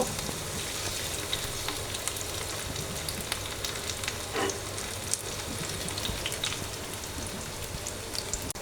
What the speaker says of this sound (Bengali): তেল দিয়েছি আমি এখন আলুটা ভেজে নেব ভাজি করে নেব